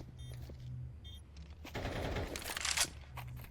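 A burst of automatic gunfire sprays during a Counter-Strike esports match, a rapid, crackling volley that swells in the second half after quieter game sounds, fairly faint overall.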